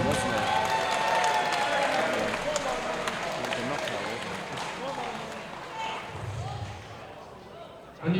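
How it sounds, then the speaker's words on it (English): Crowd applause for both boxers after a British championship fight, a dense, steady wash of clapping that slowly thins out, with a voice speaking over it. "Big round of applause, please,"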